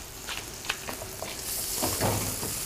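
Garlic and capia pepper frying in a pan, a steady close sizzle with a few stirring scrapes that swells louder toward the end, with no talking.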